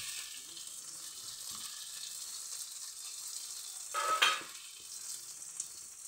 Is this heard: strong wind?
no